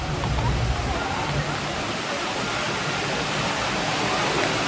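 A steady, loud rush of falling water from a waterfall in Pandora at Disney's Animal Kingdom, a continuous broadband roar that never lets up, with a faint voice low underneath early on.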